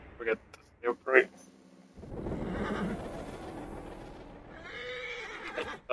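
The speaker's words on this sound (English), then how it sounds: "there's the horse" A horse in the Assassin's Creed video game whinnies in a few sharp, loud bursts, followed by a steady rush of game ambience and hoofbeats, with a player's voice talking over parts of it.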